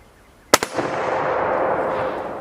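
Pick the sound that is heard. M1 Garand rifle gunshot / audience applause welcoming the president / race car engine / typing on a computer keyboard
M1 Garand rifle gunshot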